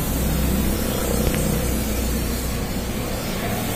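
A spray can hisses in a steady, loud, continuous stream while rubberized undercoat is applied to the underside of a 2001 Toyota Corolla Altis 1.8G automatic, with no pauses or talk.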